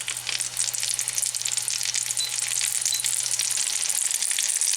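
Burgers frying in a hot pan give off a loud, steady sizzle with bright crackling spatter that holds up evenly throughout, with no talking.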